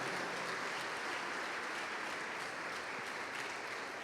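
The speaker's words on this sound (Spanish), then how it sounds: "Démosle fuerte entonces ese aplauso a nuestro Dios que nos da la victoria." Church congregation applauding strongly at the close of a sermon, a dense, steady wash of many hands clapping together, even and sustained with no voices rising above it.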